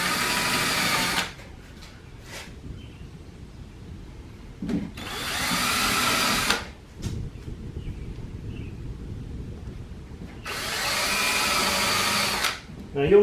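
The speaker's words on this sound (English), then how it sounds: "So I'm going to countersink some screws down in here." A power drill countersinks screws into a wooden shelf inside a camper, running in three loud whirring bursts separated by quieter pauses with small knocks.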